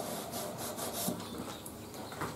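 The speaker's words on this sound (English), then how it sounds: "drill first in the top" A drill bores into solid pine during furniture assembly, giving a close, rough, rhythmic grinding with repeated strokes and no voices.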